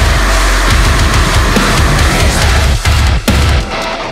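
A breakdown from a metal song, with screamed vocals over heavy, chugging distorted guitars and pounding drums, plays loud and dense throughout, with brief stops in the rhythm near the end.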